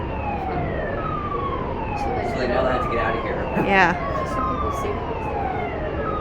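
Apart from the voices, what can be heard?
emergency vehicle siren at Port of Los Angeles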